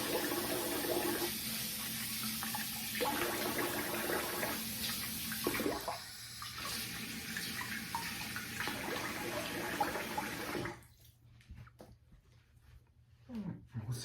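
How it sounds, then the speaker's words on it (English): Water runs steadily from a bathroom tap while a face is rinsed after a shave, with splashes and changes in the flow before the tap shuts off near the end. "I'm gonna rinse the face here."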